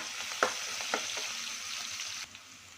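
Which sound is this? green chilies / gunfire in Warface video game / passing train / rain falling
green chilies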